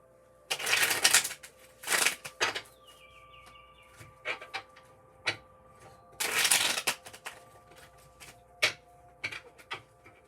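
Tarot cards being shuffled and handled in bursts, with several loud riffling flurries and lighter taps and flicks between them, close up and without talk.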